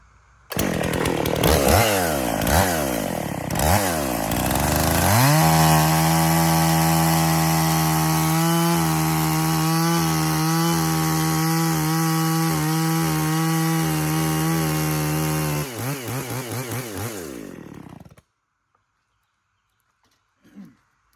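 Husqvarna 55 chainsaw fitted with a new bar and chain, revving hard, then holding a steady high whine with small stutters before it cuts out, followed by a brief knock after a pause.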